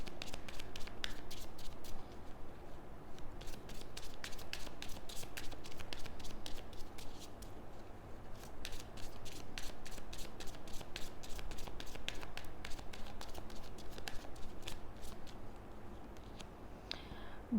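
Deck of tarot cards being shuffled, a long run of quick, crisp riffling flicks and soft hand taps, close and fairly quiet, with no talking.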